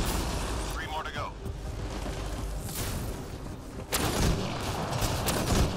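Gunfire in the Apex Legends video game: a dense, noisy backdrop of shots and impacts with a sharp louder burst near the end, under game effects and a voice.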